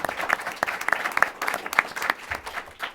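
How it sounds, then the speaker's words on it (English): Audience applause for a panel at a natural resource governance session, a dense steady clapping from a crowd with sharp individual claps standing out, continuing at even strength throughout. "let's give a round of applause to this great panel"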